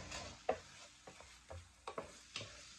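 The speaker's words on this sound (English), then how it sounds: "so I'm just frying that up in the olive oil and garlic." Rice frying in olive oil with garlic for Mexican-style Spanish rice, stirred in a pan with several distinct scraping clicks over a soft, steady sizzle, close and fairly quiet, with no talk.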